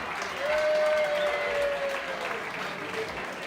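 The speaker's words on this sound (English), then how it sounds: "Give him a round of applause." An audience claps steadily at a live event in Wichita Falls, a sustained round of applause with a faint tone running through it and some voices in the crowd.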